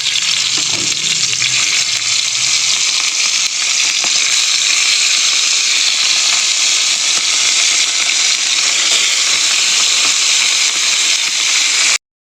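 Small mixed fish coated in salt and turmeric fry in oil on a nonstick pan, giving a loud, dense, continuous sizzle and crackle for the full duration, with no talk.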